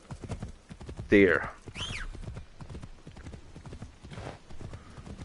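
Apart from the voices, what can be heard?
horse hooves galloping in Assassin's Creed Shadows video game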